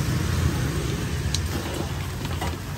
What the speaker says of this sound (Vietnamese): Hôm nay mới có 10 giờ sáng mà trời mưa tầm tã luôn.